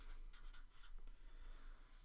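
Pen or pencil writing down angle measures for a geometry problem, with soft scratchy strokes in short bursts, very faint and close, with no talking.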